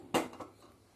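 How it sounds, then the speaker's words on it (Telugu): A cooking vessel is set down on a stove before milk goes in for chirannam, producing one close metallic clank followed by a softer second knock, with quiet room tone after. "ఒక గిన్నె పెట్టుకొని"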